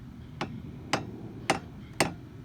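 A hammer taps a stuck wiper arm bolt on a Jeep, four light, sharp knocks spaced roughly half a second apart, close and fairly quiet against a low background hum.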